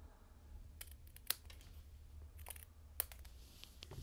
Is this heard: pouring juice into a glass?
no